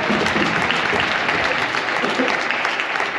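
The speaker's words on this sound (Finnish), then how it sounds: "Raikuvat aplodit vielä kerran" An audience at a club awards moment during a Blackbirds United women's match claps steadily in a dense, even burst of applause that carries through without a break.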